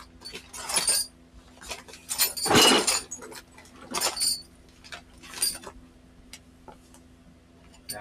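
A bag of metal transmission bolts clinks and jingles in several short bursts as it is picked up and shifted, close and fairly crisp, with quiet pauses between handlings.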